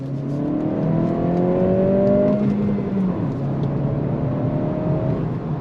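A 2025 Acura Integra A-Spec with a manual transmission accelerates, its engine note climbing in pitch through the revs, easing back at a shift, then building again, heard steadily from inside the cabin.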